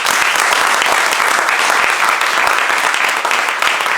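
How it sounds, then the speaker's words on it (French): A café audience gives a final round of applause, dense and continuous clapping heard up close and holding steady for the full few seconds, with no one speaking. "On va les applaudir une dernière fois"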